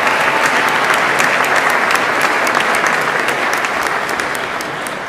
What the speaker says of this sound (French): applaudissons encore une fois nos finissantes du programme Leadership pour la jeune enfance